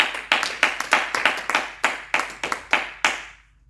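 Church congregation clapping in a rhythmic, fairly loud patter of hands for several seconds, slowing into a few final claps before fading out, with no talk over it.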